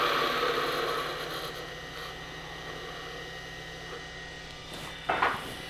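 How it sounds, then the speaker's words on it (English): A parting tool cuts into a spinning wood ring on a lathe, giving a continuous soft scraping hiss over the machine's low hum. The sound fades slightly and then ends in a brief louder scrape near the close. "Now you're going to take a parting tool, go straight, as straight as possible"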